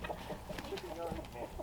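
Chickens in a shaded coop yard cluck softly and intermittently, faint and fairly distant, with some talking in the background.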